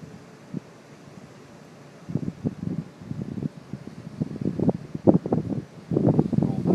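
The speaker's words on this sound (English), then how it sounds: "Ooh, it's windy." Gusty wind at Amicalola Falls buffets the microphone in uneven rumbling bursts, quiet at first and then growing stronger and more frequent toward the end, with no clear talk.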